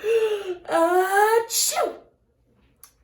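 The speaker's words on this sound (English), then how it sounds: "That was quite a sneeze" A single loud, close sneeze from an adult man on a dusty dirt road, a rising voiced intake followed by a sharp burst that trails off into silence.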